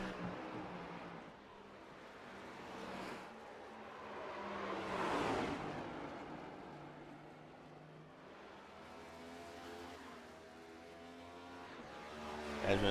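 Race cars on the final lap at New Hampshire Motor Speedway in a sim racing cup race, engines droning and swelling as cars pass, with several rising and falling waves of roar at moderate distance.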